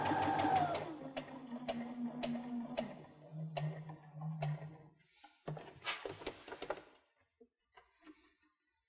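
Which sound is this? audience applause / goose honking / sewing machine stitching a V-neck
sewing machine stitching a V-neck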